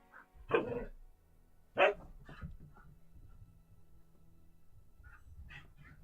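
Dogs indoors let out two loud barks close together near the start, followed by a few quieter yips and scattered smaller barks over soft background noise.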